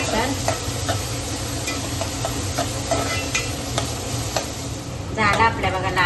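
Three medium-sized onions sizzling in a pan while being stirred, with repeated scraping strokes over a steady frying hiss and a louder burst of sizzle near the end; a voice speaks briefly in the background.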